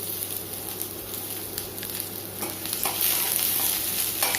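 Chopped big onion sautés with fried spices in a pan, a continuous close sizzle with occasional stirring scrapes, rising slightly louder toward the end as the onion goes in; no talking.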